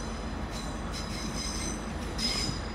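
A British Rail Class 165 diesel unit pulls into Exeter St Davids station, wheels squealing on the rails over a steady loud rumble, with no voices.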